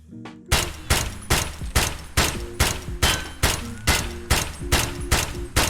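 SKS semi-automatic rifle fired in Escape from Tarkov, a string of about a dozen loud, sharp shots at a steady, even pace, each with a short echoing tail, no talking.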